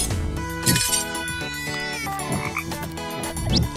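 Frogs in glass jars in the video game Tasty Planet give a dense, continuous run of synthetic croaks over bright clinking game tones, loud and steady throughout.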